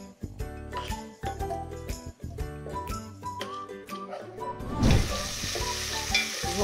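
Spices, onions, tomatoes, chives and garlic hit hot oil and are stirred, with clinking and scraping over background music, then a loud sizzling burst swells midway and continues.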